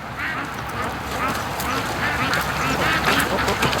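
Muscovy ducks on a lake give a steady run of soft quacks and chatter, fairly close, over a constant outdoor background with no clear talk.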